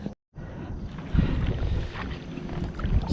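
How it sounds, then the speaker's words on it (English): A kayak is paddled on Colonel By Lake along the Rideau Canal, with close, rough splashing and water swishing under heavy wind noise after a brief dropout. "Just keep paddling."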